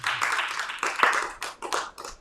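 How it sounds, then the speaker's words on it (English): An audience claps for Crystal Yee at a talk, a few seconds of scattered, uneven handclaps with distinct individual strikes, moderately close and fairly light. "Give Crystal Yee a round of applause"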